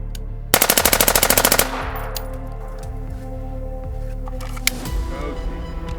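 A Stealth Ekron firearm fires a quick burst of about a dozen rapid rounds, loud and close, which then ring off into quiet outdoor ambience with a faint later knock.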